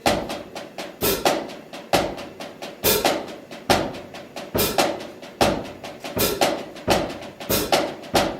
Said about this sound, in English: and combine it with the paradiddle starting with the left-hand note